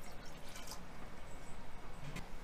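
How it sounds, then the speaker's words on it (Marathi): Six glasses of water, about 1.5 litres, are poured into a pot on a gas stove for boiling. A low, steady watery splashing and trickling continues throughout, faint and close. "आता याच्यामध्ये 6 ग्लास पाणी होते"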